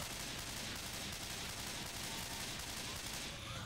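Rapid gunfire from a weapon in the zombie shooter game Left 4 Dead 2 rattles as a dense, unbroken burst of shots at a fairly low level.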